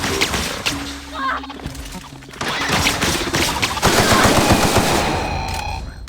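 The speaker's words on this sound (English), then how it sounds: "God, I love this gun." Rapid automatic gunfire from the player's gun in The Outer Worlds, loud bursts of game shooting that fill the scene, growing denser and heavier toward the end.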